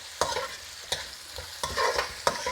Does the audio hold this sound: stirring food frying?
yes